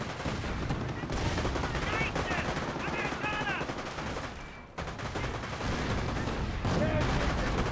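Rapid machine-gun bursts and scattered rifle fire from a Company of Heroes battle between US Rangers and Wehrmacht troops, continuous and dense with brief lulls and a voice murmuring beneath the shooting.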